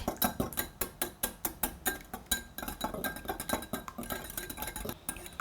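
Egg and salt are stirred in a bowl for Korean pan-fried meat patties (donggeurangttaeng). A utensil knocks against the bowl in quick, regular clinks, several per second, fairly close and moderately loud, with no talking.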